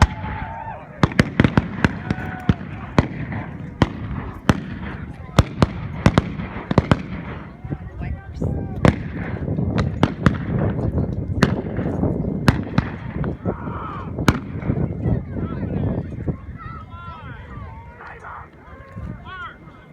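Rapid volleys of loud, sharp black powder gunshots crack close by in irregular bursts at a Civil War reenactment in Arizona, layered over a busy outdoor din of crowd noise.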